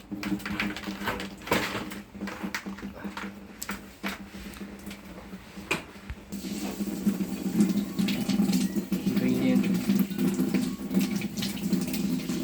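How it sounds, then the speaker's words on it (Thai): Water is sprayed to wash the base of an air conditioner during cleaning, a continuous hissing gush with scattered splashes and knocks that swells louder and fuller halfway through. "ใช้น้ำล้างฐานข้าง"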